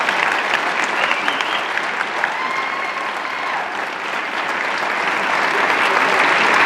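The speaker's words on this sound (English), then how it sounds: "Round of applause for the cast." An audience at a Sundance world premiere Q&A applauds the Tallulah cast, a dense and loud ovation that holds steady for several seconds and swells toward the end.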